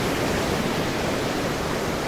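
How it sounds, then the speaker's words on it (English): Gentle ocean waves give a smooth, unbroken rushing wash, broad and steady without distinct breaks or voices. "gentle ocean waves"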